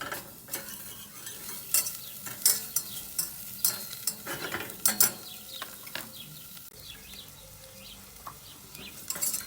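Butter and shallots sizzle in a pan over medium heat. The frying hiss is broken by frequent stirring scrapes and utensil clinks, close up and moderately loud, with no voices.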